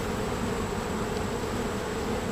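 Honeybees buzz around backyard hives in a steady, continuous drone, a constant hum with no voices.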